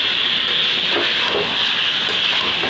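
Chicken pieces for a chicken curry hiss steadily in a hot pan while being stirred, a continuous close steam-like sizzle with faint scraping.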